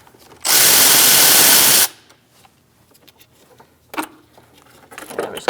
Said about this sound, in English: Using a 10mm socket, we're going to remove our negative battery terminal first.